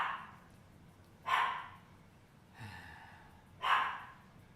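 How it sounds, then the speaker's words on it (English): Dogs bark a few separate times in the distance, sharp isolated barks spaced about a second apart over a quiet indoor background. "the dogs barking constantly"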